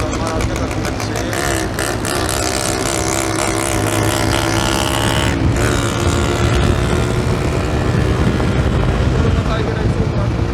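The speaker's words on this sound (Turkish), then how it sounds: "motorumda Tiger egzoz var." A 125cc motorcycle fitted with a Tiger aftermarket exhaust rides along with a steady, loud, droning engine note close by, while a rider talks over it.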